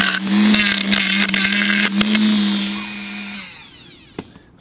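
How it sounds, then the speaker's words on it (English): Dremel rotary tool drilling down into wood and grinding out the sides while crafting a walking stick, a loud steady high whine running close for over three seconds, then winding down and stopping. "I drilled down with the Dremel, just going down"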